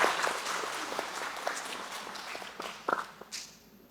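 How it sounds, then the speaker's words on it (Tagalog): A church congregation gives scattered, light applause for the choir, with soft uneven claps over a quiet room and a few louder claps near the end. "Palakpakan natin sila, mga kapatid."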